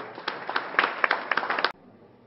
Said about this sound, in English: I need applause for all of my donors